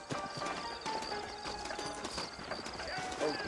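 Steady clip-clop of horse hooves at a walking rhythm in the video game Red Dead Redemption, with people talking over it and a faint whinny amid game-like background sounds.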